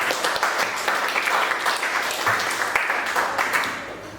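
Applause for a student named Bisri in a university classroom session, a dense burst of many hands clapping together for about four seconds, close and steady before tapering slightly at the end.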